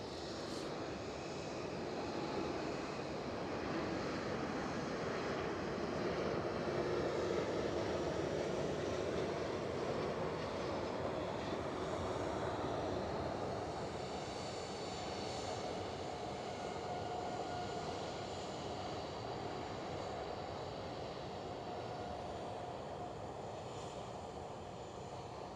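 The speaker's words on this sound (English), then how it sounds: "Plane landing." Airplane landing at Edinburgh airport, a continuous broad engine roar heard from a distance, holding steady and swelling slightly midway across nearly half a minute with no talk.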